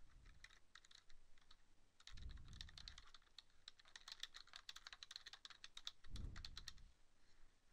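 Steady typing on a computer keyboard as a payment memo is entered in office software, quick light key clicks in bursts with brief pauses, close and quiet, no voices.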